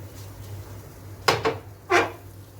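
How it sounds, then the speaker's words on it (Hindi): Homemade khoya scooped out of a pan into a bowl, two or three sharp utensil scrapes and clinks against cookware over a low steady hum. "अब इसको मैं इसके अंदर आराम से डिश आउट कर लेती हूँ।"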